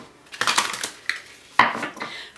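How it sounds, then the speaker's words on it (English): Tarot card deck being shuffled by hand, a few close, crisp riffling and slapping bursts of cards in quick succession. "just a bit of a shuffle going on."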